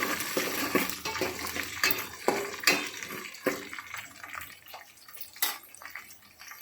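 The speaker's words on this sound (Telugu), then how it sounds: "ఇప్పుడు హాఫ్ కప్పు పల్లీలు, ఒకసారి కలుపుకోవాలి" Close, brisk scraping and rattling of a spoon stirring half a cup of peanuts frying in a pan with chillies, with irregular strokes and a light sizzle underneath.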